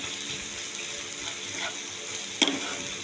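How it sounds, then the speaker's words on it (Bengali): Soft, continuous sizzle of onion frying in oil until reddish-brown, with a faint hiss and a brief clink near the end. "সেই জন্য আমি লালচে করে পেঁয়াজটা ভেজে নেব।"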